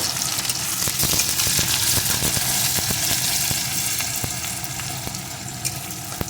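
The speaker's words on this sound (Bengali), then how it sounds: "পেঁয়াজ কুচিটাও একটু ভেজে নেব" Chopped onion frying in hot oil alongside green chillies, a loud, dense, close sizzle with light stirring taps, easing slightly toward the end.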